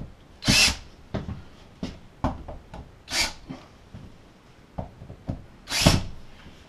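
A power drill drives a screw while a Fan-Tastic Fan RV ceiling vent is installed. Three short, loud whirring bursts are heard, separated by quieter clicks and knocks, with no talking.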